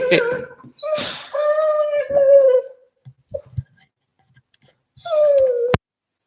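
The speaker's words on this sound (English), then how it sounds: "My dog wants to say hello again." A dog gives drawn-out, high whimpering whines in a few separate bursts, with quiet pauses between them, close and fairly loud.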